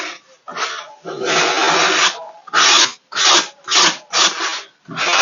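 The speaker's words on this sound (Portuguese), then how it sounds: "Aqui acho que já tá seco, vamos passar a lixa." Sandpaper is rubbed over a dried handmade craft piece to rough up its corners, making loud, close rasping strokes: one long drawn-out scrape followed by a series of shorter rhythmic back-and-forth passes.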